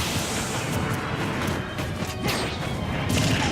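Meta Knight lands a forward smash in Super Smash Bros. 4 against Little Mac, a dense burst of sharp hits, swishes and crashes over steady game sound.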